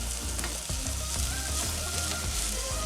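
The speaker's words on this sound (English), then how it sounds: "I'm going to start sauteing my onions. In my pot here, guys, I'm going to add some oil, my garlic" Onions and garlic sauteing in oil in a pot give a steady, close sizzle with several soft clatters of stirring spread through it, and no voices.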